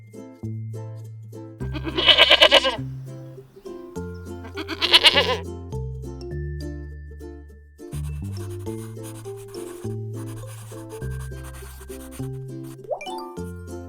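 Goat bleats ring out twice as loud, wavering cries set between plucky, bouncy children's music, near and clear with no speech over them.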